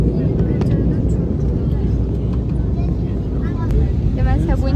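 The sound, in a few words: airplane in flight turning over the sea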